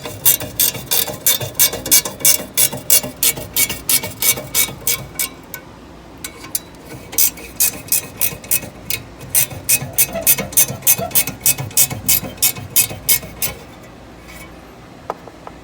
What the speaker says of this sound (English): move over to removing the screws here